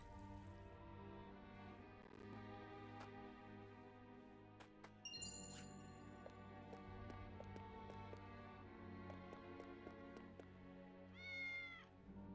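A cat meowing in the video game Triangle Strategy, soft repeated mews over quiet sustained background music with a few light chimes and tinkles, with no one talking.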